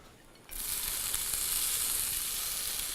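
Half a green pepper and half a yellow onion drop into a hot pan and sizzle loudly after a brief quiet start, a steady bright frying hiss that continues unbroken to the end.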